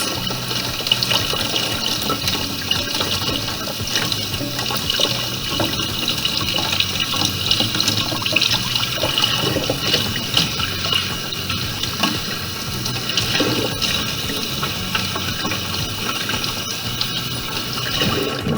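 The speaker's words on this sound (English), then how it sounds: "Use some cold water to rinse." Cold tap water runs steadily over a Mylar stencil to rinse off glue, a continuous close splashing rush with no talking throughout.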